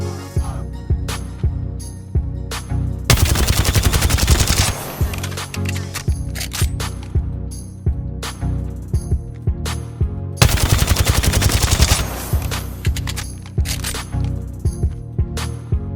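An SMG from Apex Legends fires in rapid automatic bursts, each a loud close rattle of shots, with two longer sustained streams and sharp clicks and single shots between them.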